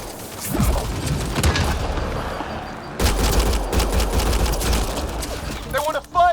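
Heavy firefight in the game Mass Effect Andromeda, with dense overlapping gunfire and impacts that are loud and continuous, plus a brief electronic sound near the end.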